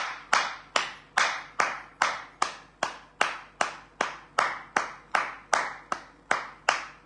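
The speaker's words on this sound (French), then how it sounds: "Je voudrais qu'on se tienne debout un instant pour applaudir les camarades." A crowd of comrades stands and claps in tight unison at a patriotic gathering in Côte d'Ivoire, a steady, evenly spaced beat of roughly eighteen claps in a row, with no talking.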